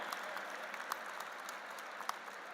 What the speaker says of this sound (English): Let us join our hands and welcome with a big round of applause all the tall stalwarts present here today